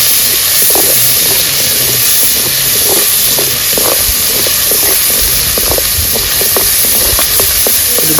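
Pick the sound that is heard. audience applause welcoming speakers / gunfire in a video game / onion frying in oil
onion frying in oil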